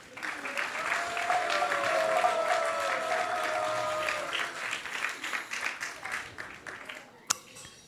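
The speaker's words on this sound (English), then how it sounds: "Let's give them a round of applause." An audience claps in a sustained round of applause, dense and steady at first, then thinning into scattered claps before fading out, with a voice coming in near the end.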